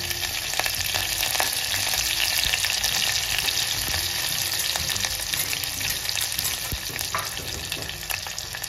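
Green chillies, crushed garlic and curry leaves sizzle steadily in hot oil in a home kitchen, a dense, continuous crackle and spit running close and loud throughout, with no voices.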